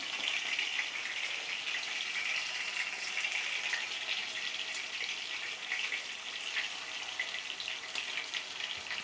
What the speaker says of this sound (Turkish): biz böyle yapalım kızartalım